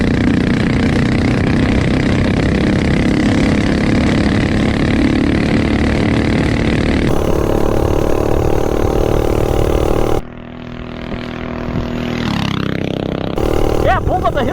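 Small single-cylinder minibike engine fitted with a five-foot intake, droning steadily as it pulls uphill on a street, loud and close, with the tone shifting as speed changes and a brief dip before it picks up again.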